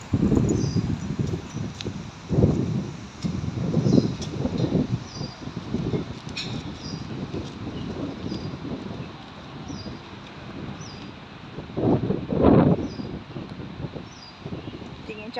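Wind gusts buffet the microphone in low rumbling bursts, rising and falling outdoors on a sunny day during a dog walk, with faint background activity.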